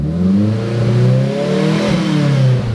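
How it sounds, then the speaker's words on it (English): A tuned Mitsubishi Evo 9 engine on an Ecumaster EMU ECU revs loud and close to the limiter, its pitch sweeping up and down in smooth waves with a rough, loping rumble underneath. "Revs all the way out now, no more cutouts."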